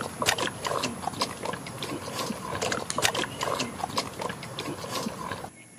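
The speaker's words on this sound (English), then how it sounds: "P for pig." A pig grunts and oinks repeatedly in a children's alphabet lesson, its short, close snorts mixed into a busy, bright background of music and other noise.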